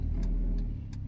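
A budget Honda Civic with 3M Window Weld motor mounts idles just over 1,000 RPM, giving a steady low rumble with a loose exhaust rattle and faint periodic ticks, heard up close and alone.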